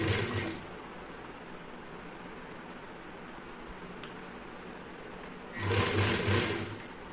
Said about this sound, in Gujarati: ફરતી આપણે એ જ રીતે સિલાઈ લઈ લેવાની છે